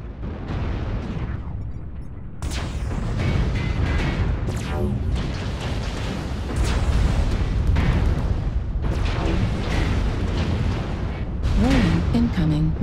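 Exploding Gauss ammo in MechWarrior Online, a dense, loud rumbling blast amid continuous battle noise, with bursts and crackles throughout and a brief electronic tone near the end.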